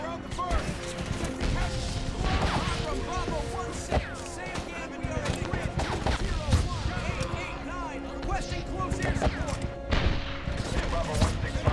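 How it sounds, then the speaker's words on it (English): Rapid bursts of gunfire and crashing impacts from the Medal of Honor game's Rescue the Rescuers mission, loud and dense throughout with overlapping shots, while a voice talks over the battle. "Covering fire!"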